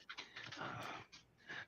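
A puppy pants in quick, breathy bursts close by, fairly faint and rough, with short gaps between runs of panting and no talking.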